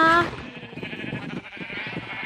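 Minecraft Skyblock sheep give a quick wavering bleat, followed by someone talking over the game sounds.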